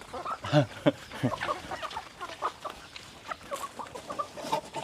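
Chickens cluck and squawk at feeding time on a farm, several birds close by in busy, uneven bursts, with a person's voice faintly mixed in.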